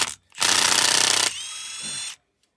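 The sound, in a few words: pulling a bolt out on a Scenicruiser bus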